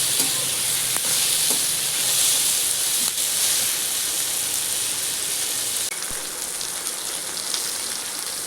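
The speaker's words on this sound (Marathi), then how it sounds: "छान भाजून घ्यायचं आता मस्त असं आपण जरा पण ठेवणार आहे मऊ शिजले" Masala for egg curry roasts in a hot pan, a loud, dense, continuous sizzle and crackle with occasional stirring scrapes, heard close and without speech.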